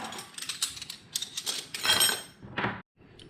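Metal tools from a dual sport adventure motorcycle toolkit, including a ratchet wrench, are handled with close, bright clinks, rattles and mechanical clicks, several quick bursts broken by a short pause near the end.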